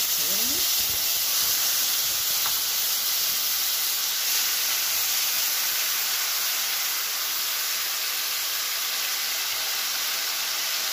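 Marinated beef shawarma pieces sizzling in a smoking-hot pan with a spoonful of ghee and a spoonful of oil, giving a steady, loud, hissing fry that holds evenly throughout.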